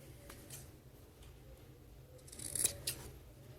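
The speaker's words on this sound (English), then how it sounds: "I'm actually going to trim the seam a bit at the corners as well." Scissors snipping faintly through a fabric seam at the corners of a sewn dog coat, a few soft, close cuts over a quiet background, brief and low in level.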